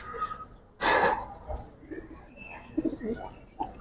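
A young female pigeon gives a soft, close coo among low throaty rumbles, preceded by a sudden brief rustle or flap, with faint background noise and no talking.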